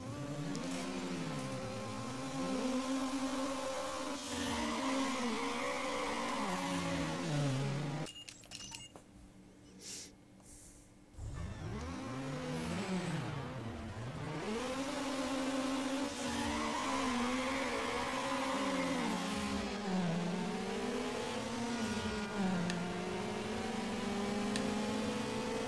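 A car engine in Need for Speed Underground screams near its rev limit, a buzzy, wavering whine that swoops up and down, briefly drops away for a few seconds, then returns just as strained.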